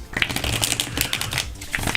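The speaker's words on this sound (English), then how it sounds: "I need to shuffle just a wee bit more" A deck of tarot cards is shuffled close up, a rapid crackling riffle of card edges with quick bursts and light taps over two seconds.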